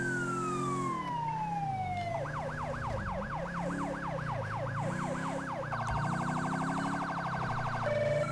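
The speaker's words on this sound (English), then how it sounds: "We're still using the Federal Signal Delta siren." Federal Signal Delta police siren in GTA V, starting with a falling wail, then a quick yelp, then a rapid piercing phaser trill over a deep engine drone, loud and close with no voices.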